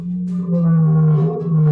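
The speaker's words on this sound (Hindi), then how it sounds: "तभी वहां जंगल का राजा शेर आ जाता है और जोर से दहाड़ता है" A cartoon lion, king of the jungle in a kids' animation about a wolf attack, gives a loud sustained roar, a deep steady growling tone swelling slightly in the middle.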